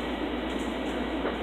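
A steady rumble of a train interior, continuous low-frequency noise with a faint rattle, no voices.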